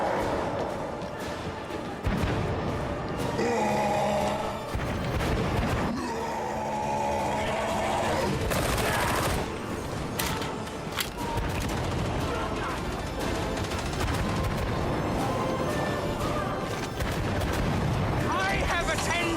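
Enemy gun emplacements firing in Kerbal Space Program 2 during an assault near a Minmus research base, a sustained barrage of heavy booming and crackling bursts with loud blasts around the middle, with a voice talking over it.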